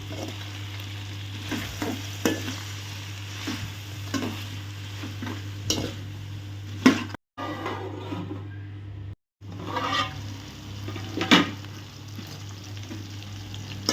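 Drumsticks being stirred with salt in a pot for masala murungakkai kuzhambu, a low steady sizzle under repeated scraping stir strokes, with two brief silent gaps.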